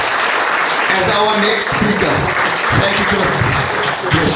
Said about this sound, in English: let's give a round of applause to Chris Mpisi